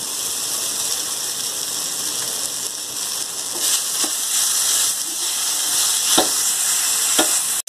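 Mung beans and spice powder sauté in oil in a pan, giving a steady soft sizzle with occasional scraping stirs, close and alone with no talking.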